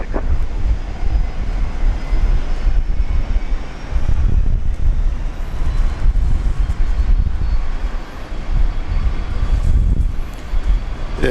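An airplane landing on runway 19 left at Brisbane International Airport, a loud, sustained low engine roar with surging swells and wind buffeting against the microphone, heard alone without talk.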